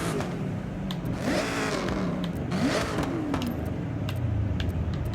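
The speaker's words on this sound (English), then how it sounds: "But now let's hear what an exhaust sounds like on this." Chevy Camaro exhaust revving in the racing game Forza Horizon 6, a steady loud engine drone with two rising rev sweeps over about five seconds.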